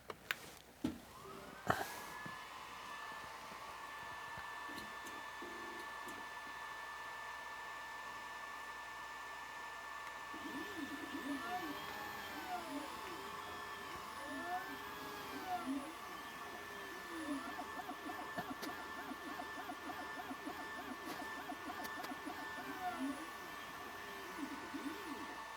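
A Two Trees 20W laser engraver runs through a job, with a steady electronic whine and hum and rising, repeating motor sweeps as the axes move together, plus a few clicks at the start.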